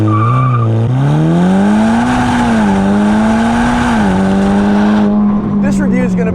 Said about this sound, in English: let's get this car on the road because there's a lot to talk about